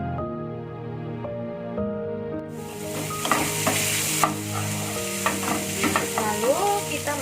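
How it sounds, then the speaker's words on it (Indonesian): Scrambled egg stir-fried with sausage and meatballs in a pan, giving a steady sizzle with scraping and stirring strokes that grow louder partway through. No talking. "ini kita orak-arik sedikit ini, lalu kita campur aja ke sosis dan baksonya ya"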